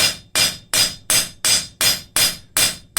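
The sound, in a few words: hammer planishing hot steel scraper on anvil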